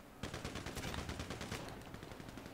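Rapid automatic gunfire rattles in a sustained burst during a frenzied GTA V Online deathmatch at a terminal, a dense stream of close shots with overlapping cracks.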